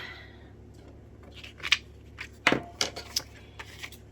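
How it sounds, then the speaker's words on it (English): A few crisp snips of scissors cutting paper, spaced irregularly with small rustles between them, close and fairly quiet. "And I'm going to start with the scissors."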